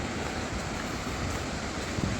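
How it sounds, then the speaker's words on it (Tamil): A waterfall in the Kolli Hills gives a steady, dense rush of falling water with no pauses. "அருவி சத்தம் கேட்குதுங்களா?"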